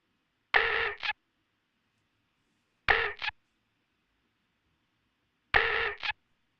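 A sound processed with OTT multiband compression plays three times as short, bright, dense metallic hits, each around half a second long, with clear gaps of silence between them.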